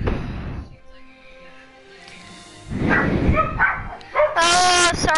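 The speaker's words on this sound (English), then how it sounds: "Oh, sorry about these dogs." Dogs in a video game bark and yip in short bursts, louder toward the end, with a voice speaking at the start.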